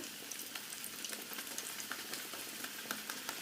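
Banana slices fry in hot oil for Kerala-style banana chips, giving a steady bright sizzle with dense crackling pops throughout and no voices.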